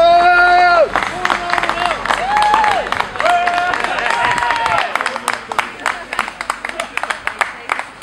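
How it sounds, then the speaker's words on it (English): A crowd outdoors breaks into scattered clapping and cheers after voices call out and speak loudly, the applause building to a burst of sharp, uneven claps. "Guys, round of applause there."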